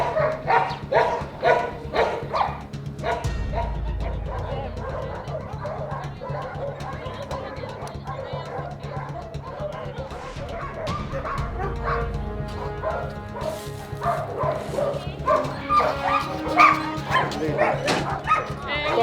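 Several dogs at a shelter bark, yip and whimper in repeated bursts, close and lively, with people talking softly underneath at times.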